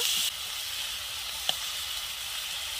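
Ginger paste frying in mustard oil with onion paste, giving a steady, close sizzle and hiss that runs throughout, with a brief spoon tap partway through and no talking.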